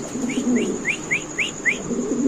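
Black beauty pigeons, a laying and breeding pair, coo in low repeated murmurs close by, while a series of six short rising chirps repeats steadily above them against a faint constant hum.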